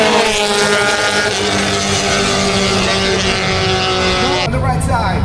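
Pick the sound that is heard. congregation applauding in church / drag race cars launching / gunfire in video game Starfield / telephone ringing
drag race cars launching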